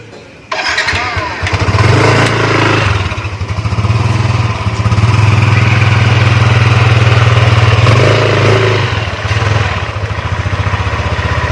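A motorcycle engine starts up and runs at a steady, loud idle nearby, with a couple of short revs along the way.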